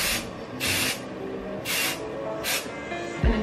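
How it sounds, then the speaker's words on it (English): Living Proof Full Dry Volume Blast dry shampoo sprays onto hair roots in four short, close hissing bursts, with a faint rustle of hair between them. "So I'll just spray it in the root"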